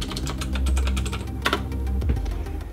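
Keys clatter on a computer keyboard as a command is typed into the Betaflight CLI, a quick run of close, irregular clicks with a few heavier strokes.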